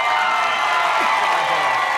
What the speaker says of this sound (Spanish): El aplauso para César Arturo.